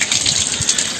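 Water gushes steadily from a tap while cut fish pieces are washed for feeding an alligator gar, a close, continuous splashing rush.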